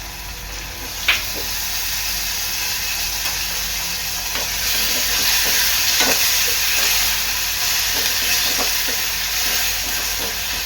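Potato goes into a pan of onion frying in oil, making a continuous hissing sizzle that grows slightly stronger partway through, with occasional soft stirring clicks and taps.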